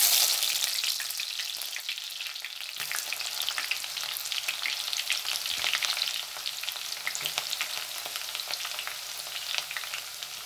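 Small shallots for chura curry fry in a hot pan, giving a steady, dense sizzle that runs the full length with occasional stirring scrapes, fairly close and alone without voices.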